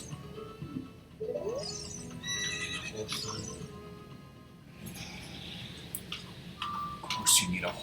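A horse in The Legend of Zelda: Ocarina of Time whinnies amid clip-clopping hoofbeats and scattered game effects, with the neighing standing out clearly against a busy, moderately loud background.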